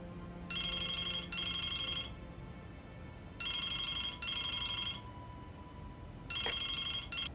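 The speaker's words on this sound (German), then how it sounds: "Das Telefon." An electronic telephone ringing in the point-and-click adventure game Broken Sword 2, bright warbling rings in repeated double bursts with gaps between, clear and fairly loud over a quiet background.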